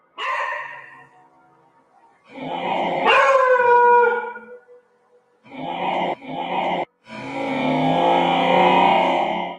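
A dog in a dark pantry of an abandoned house howls and whimpers loudly and close by, with long rising howls broken by brief pauses and shorter whining bursts.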